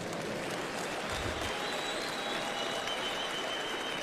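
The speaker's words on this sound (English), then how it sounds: "Clap hands for Jesus." A congregation claps for Jesus during a prophet's church service, a continuous even wash of many hands under steady room noise, with no voices breaking through.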